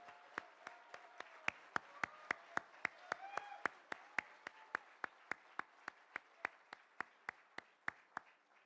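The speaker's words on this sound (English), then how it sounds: "Give a standing ovation to our chairman, D.K. Jain" A single person claps slowly and steadily for a chairman at a corporate thanksgiving event, each crisp clap distinct and evenly spaced, while a faint voice speaks underneath.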